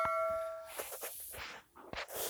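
A bright bell ding sound effect for a subscribe bell button rings once at the start and fades fast, followed by faint rustling and handling noise.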